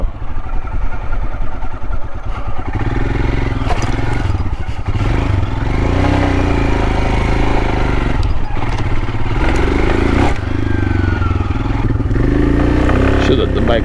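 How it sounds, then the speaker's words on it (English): A Royal Enfield Himalayan motorcycle with an ECU performance upgrade, K&N open air filter and new chain warms up after a cold start, its engine running loud and steady throughout with some clatter. "Should let the bike warm up a little bit. Especially when it's this cold out."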